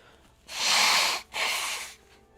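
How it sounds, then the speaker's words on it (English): Two forceful nose blows in quick succession, close and loud, the first longer than the second, with quiet between. "I gotta blow my nose."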